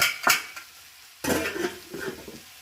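Torn pieces of roti being stirred and mixed in a metal pot, giving short scraping and clattering bursts of spoon against pot with brief pauses between strokes, close and fairly loud.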